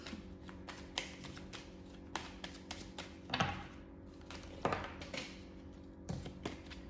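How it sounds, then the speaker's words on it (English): Tarot cards being shuffled by hand in a run of crisp riffling bursts and soft taps, close to the mic, with a steady low hum underneath and no talking. "Let's keep shuffling."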